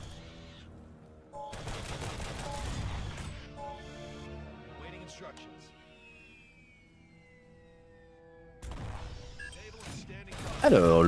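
M7 Cyclone autocannon fire in the Starship Troopers video game, two bursts of rapid heavy shots separated by a quieter stretch, with a French voice talking over the action.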